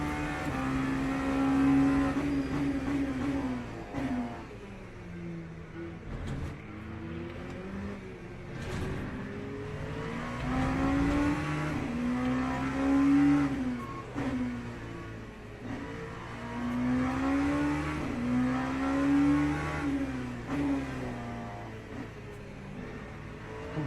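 Simulated GT3 and LMP race car engines from Le Mans Ultimate, a steady layered roar with engines revving up and down through gear changes, continuous and fairly loud, with no talk.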